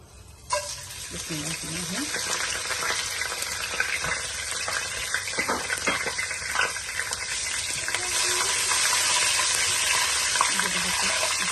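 Whole and ground spices hit hot oil for dal with a sudden sizzle that swells into a loud, crackling, continuous fry, with someone speaking softly over it.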